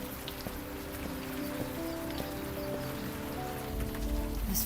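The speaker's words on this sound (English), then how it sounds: "This friggin' rain." Steady rain pattering in the murder-mystery adventure game Old Skies, a constant close wash of drops with faint tonal game ambience underneath and no talk.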